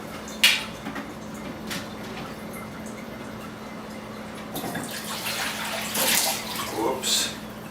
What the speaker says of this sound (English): I'll just pour some of this into this bowl here.